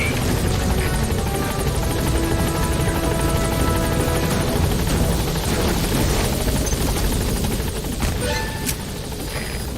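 A helicopter sits at a landing zone in Metal Gear Solid V, its rotor and engine roar steady, loud and close throughout, with a dense layered mix of game sound and music underneath.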